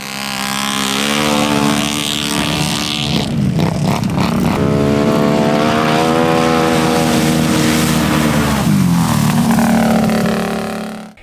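A Can-Am Renegade 1000 ATV engine on nitrous screams at around 12,500 RPM, loud and close, holding a sustained whine that rises and falls as the throttle is worked.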